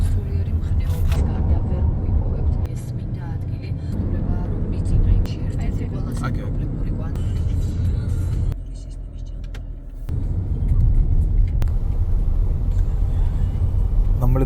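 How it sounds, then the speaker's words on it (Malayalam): Steady low rumble of evening road traffic heard from inside a moving car in Georgia, with passing vehicles swelling and fading and a brief quieter stretch, while people talk over it throughout. "വൈകുന്നേരം ആയതുകൊണ്ട് റോഡിലൊക്കെ നല്ല ട്രാഫിക് ഉണ്ട്."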